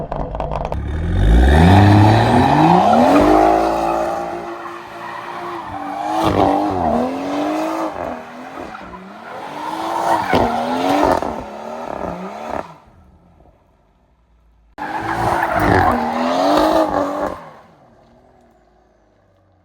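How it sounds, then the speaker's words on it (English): A 500 hp BMW M140i with a B58 engine drifting on a closed private track, its engine revving hard and rising and falling in pitch with tire squeal over two long bursts, then a gap and a shorter final burst. "me drifting on a closed private track"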